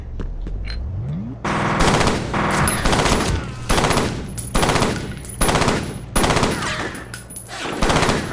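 Sustained automatic gunfire in the video game F.E.A.R. After a quiet opening, it erupts into loud, rapid bursts that repeat in pulsing volleys for several seconds, close and dense, with no voices.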